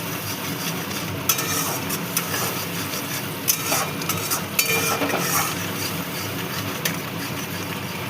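Salt, turmeric and chilli powder are stirred into rui fish frying in a pan, giving a steady sizzle under scattered scrapes and light clinks of the utensil against the pan, with no voices.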